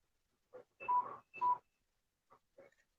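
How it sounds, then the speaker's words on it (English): A few short electronic low-battery beeps from a phone sound in a brief cluster, then two fainter chirps follow after a pause, clean against near silence. "Whose phone battery's beeping?"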